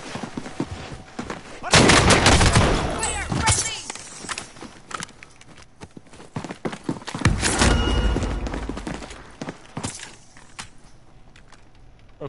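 Bursts of gunfire in the video game Warzone, loud clustered volleys around two and seven seconds with scattered shots between, mixed with game noise and someone talking over it.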